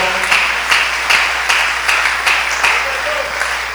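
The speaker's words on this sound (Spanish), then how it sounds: "Fuerte ese aplauso al Señor" A church congregation claps in a steady unison rhythm, loud and close, with the beats evenly spaced and sustained throughout.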